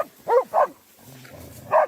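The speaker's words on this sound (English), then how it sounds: "The dogs made it clear to the bear that it wouldn't get close to the people." Dogs barking at a bear: three separate loud barks, two close together near the start and one at the end, with a lower rumbling growl or whine between them.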